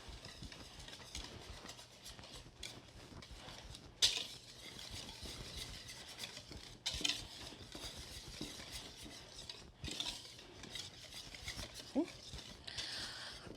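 Dry stuffing ingredients with kosher salt and baking soda being mixed in a bowl, a close, repeated scraping and stirring of utensil against bowl with a few sharper clinks, while a voice talks intermittently.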